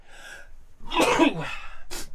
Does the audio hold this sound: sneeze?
yes